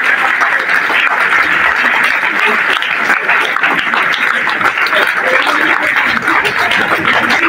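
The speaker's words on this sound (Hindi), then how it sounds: "देर तक तालियां बजाएं, कुछ नहीं, हाथों में थकेंगे नहीं आप लोग" Loud, dense applause from a large crowd, continuous and steady throughout, with shouting and voices mixed into the clapping.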